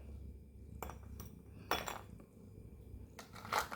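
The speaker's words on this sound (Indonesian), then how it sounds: "di atasnya kita taruh es batu" Ice cubes set down one by one onto a plate resting over a glass, giving three separate hard clinks with quiet gaps between them.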